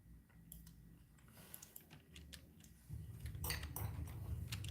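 A knife chops half an onion into fine pieces for fritters: a run of sharp, close taps and clicks on a board, getting busier and louder toward the end, with no talking.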